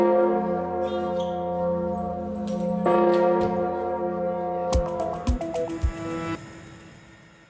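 A 7.8-tonne great church bell sounding in F rings out loud and close, its deep sustained tone humming with rich overtones, joined later by several sharp struck strikes before the resonance fades.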